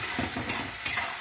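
Onions fry in a pan for a ridge gourd curry, with a close, busy sizzle and scraping stirs that come in rhythmic strokes, a couple of sharper clinks standing out.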